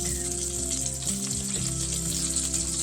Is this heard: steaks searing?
yes